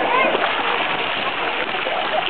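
A child sits in the water at a zoo water park, with constant loud splashing and spraying water close by, and voices mixed into the wash of sound.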